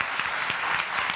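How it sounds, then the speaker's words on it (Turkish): Studio audience applause during a Turkish television talent competition, a brief burst of dense, even clapping. "Çok bir alkış gönderelim gerçekten"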